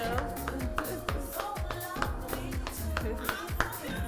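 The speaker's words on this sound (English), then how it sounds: "Can we get a round of applause for Miss Dawn Souluvn Williams?" Clapping during a live online show, a loose sequence of sharp claps repeating at an uneven rhythm over a continuous musical background, fairly close and distinct.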